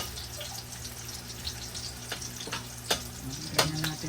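Finely minced garlic fries in a pan with a steady soft sizzle, broken by a few sharper clinks and spatters near the end.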